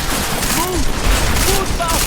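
Enemies fire bursts of gunfire in Deus Ex: Mankind Divided, a few sharp cracks scattered through busy game noise, with a voice speaking over part of the action.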